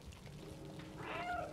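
A cat in the video game Stray lets out a brief, faint meow near the end of the moment, over low murmuring background sound.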